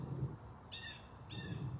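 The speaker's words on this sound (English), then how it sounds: "hello, bird." On an outdoor field during a yoga session, a bird lets out two harsh, crow-like caws about half a second apart, moderately close over a low rumble of background noise.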